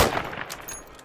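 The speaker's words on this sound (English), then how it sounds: "Shot looked good." A rifle fired once in the hunting game Call of the Wild: The Angler: a single sharp report at the very start, then a fading echo and tail under quiet ambience.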